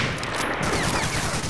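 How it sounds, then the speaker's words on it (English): MG42 machine gun fire in the video game Medal of Honor: Allied Assault, a loud, continuous rattling burst mixed with other battle noise for a moment, with no talk. "you get absolutely torn a new arsehole by an MG42"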